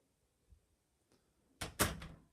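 A door closes with a couple of soft taps followed by a firm double thud near the end, loud and close in an otherwise quiet room.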